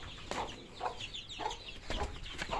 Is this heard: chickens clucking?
yes